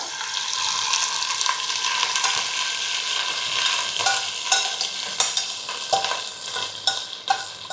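Andhra-style green chili masala frying in hot oil while being stirred, a dense sizzle broken by scraping and clattering strokes that grow more pronounced toward the end, with no voices.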